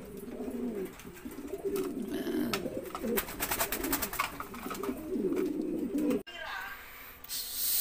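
A pair of opal German Beauty Homer pigeons coo in soft, repeated low calls close by, with scattered scratchy rustling between them.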